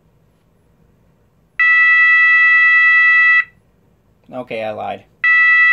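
An E2S A100DC24R alarm sounder gives a loud, steady 660 hertz tone in two long intermittent bursts, separated by a quiet gap where a voice briefly speaks.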